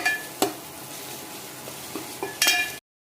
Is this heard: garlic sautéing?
yes